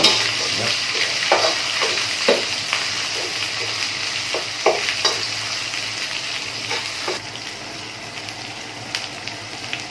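Curry paste frying in hot oil for a Thai crispy snakehead fish stir-fry, a steady close sizzle with intermittent scraping stir strokes throughout.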